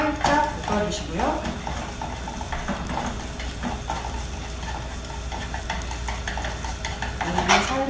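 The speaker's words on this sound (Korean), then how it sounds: "오이를 넣어서 살짝 볶아주시고요." Cucumber is lightly stir-fried in a pan, giving a soft sizzle with utensil scrapes and clinks against the pan, while a cook talks over it.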